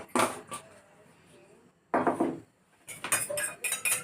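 An egg is beaten with a pinch of salt in a bowl, with bursts of rapid utensil clatter against the bowl separated by quiet pauses.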